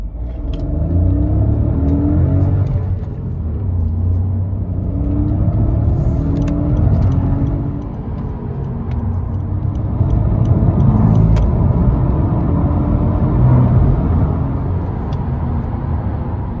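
A Honda Civic 1.0 three-cylinder turbo with a manual gearbox accelerating onto a motorway from standstill toward 120 km/h, a continuous low engine rumble and road noise heard from inside the cabin, swelling and dipping with gear changes.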